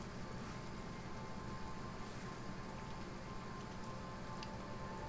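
Steady rain falls on surfaces, a dense, even patter of drops that holds at a constant level throughout with no talk over it.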